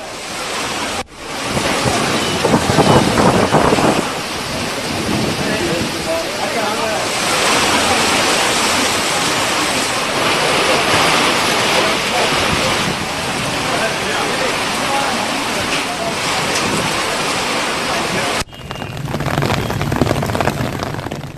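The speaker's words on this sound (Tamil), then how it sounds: "சூறை காற்றுடன் பெய்த கனமழையால் சாலையோரம் ஆங்காங்கே மரங்கள் வேரோடு சாய்ந்து விழுந்தன." Heavy rain pours with strong gusting wind during a thunderstorm in Madurai, Tamil Nadu, making a loud, dense, continuous roar that fills the whole stretch, with brief cuts near the start and end.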